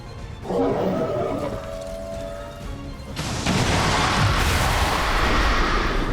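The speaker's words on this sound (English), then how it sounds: "Car explosion dealing even more damage to the Queen." A car explodes in the XCOM 2 strategy game, a loud sudden blast that sets off a sustained roaring, crackling rumble lasting several seconds.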